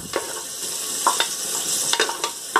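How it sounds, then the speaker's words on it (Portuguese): Sliced onion rings browning in oil in a pressure cooker pot, a steady bright sizzle with intermittent scraping stirs and utensil taps, close and moderately loud, no voices. "E a gente aqui agora vai dourar essa cebola."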